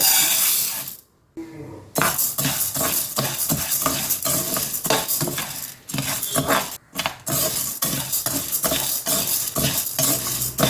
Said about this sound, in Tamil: கடலைப்பருப்புலாம் எண்ணெய் ஊற்றாமல் வதக்குங்க